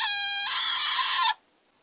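A frog lets out a loud, sustained, shrill scream lasting just over a second before cutting off abruptly into near silence.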